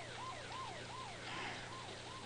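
An ambulance siren wails in a steady, repeating up-and-down sweep, about six cycles in quick succession, loud and continuous with no voices, as heard in a 1984 TV commercial.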